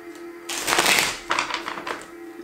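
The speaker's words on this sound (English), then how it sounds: "I want to shuffle three more times, actually a few more times." A deck of cards is riffled and shuffled in a quick, crisp flurry of papery flutters lasting a couple of seconds.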